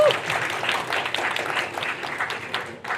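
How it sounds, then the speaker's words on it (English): An audience claps at a film festival panel discussion in a cultural institute, a moderately loud patter of many hands lasting several seconds, with faint voices mixed in. "Please, a big clap for them."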